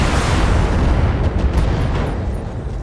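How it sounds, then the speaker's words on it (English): A game explosion in Battletech, a dense, sustained roar of rumbling blasts filling the whole clip loudly and close, with a few faint sharp ticks near the end as it gradually tapers. "One more explosion!"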